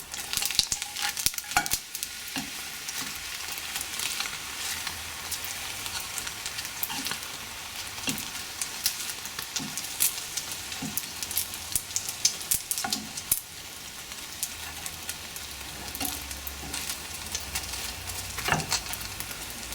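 A chilli cheese paratha sizzles steadily in a hot pan, a constant close frying hiss broken by scattered small crackles and pops for the whole stretch, with no talking.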